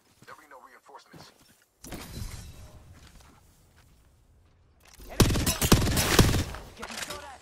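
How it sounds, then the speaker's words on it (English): Gunfire bursts in the Apex Legends battle royale game erupt loudly in the last seconds after quieter footsteps and movement, dense rapid cracks stacking into a sustained volley. "Getting shot at."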